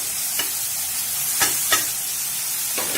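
Small pieces of chicken frying in a pan for shawarma, a continuous sizzle broken by a few sharp scraping stir strokes, close and clear with no voices.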